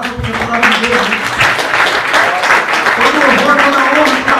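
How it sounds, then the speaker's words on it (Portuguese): A church congregation applauds during a sermon, loud sustained clapping from many people with voices and a tonal murmur beneath. "vamos aplaudir essa palavra"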